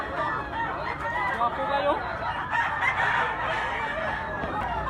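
A bulik bullstag rooster crowing amid nearby clucking fowl, with someone talking over the birds throughout.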